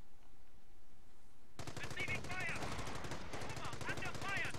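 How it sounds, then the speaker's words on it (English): Sniper rifle fire and other gunfire in Company of Heroes, a World War II strategy game, start abruptly and carry on as dense, continuous shooting with crackling bursts, loud against a quiet lead-in. "We've got the sniper of Korean Army opening up."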